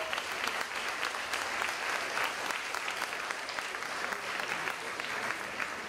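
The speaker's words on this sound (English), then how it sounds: "Can we please give Karen Golightly a round of applause for all the heavy lifting she's done?" Steady applause from an audience at a book event, a dense continuous clapping of many hands at moderate distance that holds without a break, with no voices standing out.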